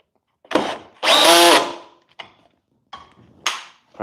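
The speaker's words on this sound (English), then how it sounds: "Probably slow the drill down." A power drill drives pocket screws into wood in short, loud bursts close by: one brief whir, then a longer grinding run of about a second, then several quick tap-like pulses with quiet gaps between.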